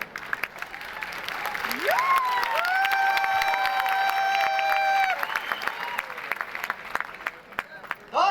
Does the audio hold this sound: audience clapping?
yes